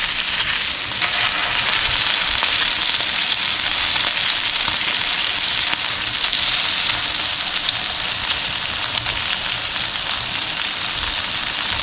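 Loud, dense sizzle of filet mignon edges searing in a hot pan, a steady unbroken crackle close by with no voices.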